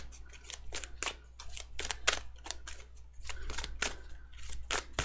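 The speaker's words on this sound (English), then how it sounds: "it's just taking a long time to shuffle" A large tarot card deck being shuffled, with a run of sharp crisp riffling snaps and clicks in irregular bursts, close and fairly quiet, no voices over it.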